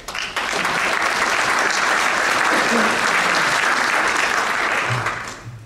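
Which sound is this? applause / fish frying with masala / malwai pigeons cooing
applause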